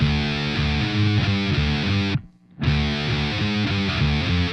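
A heavily distorted electric guitar plays a chugging riff of repeated chords, stops briefly, then starts the same riff again; loud and up close.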